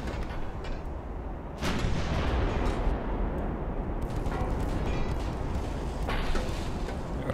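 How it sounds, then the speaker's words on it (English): Small 2-inch naval guns firing during a battleship engagement in Ultimate Admiral: Dreadnoughts, a dense, continuous rumble of overlapping booms with a sharper burst early on, loud and sustained with no talking. "All the 2-inch guns are firing."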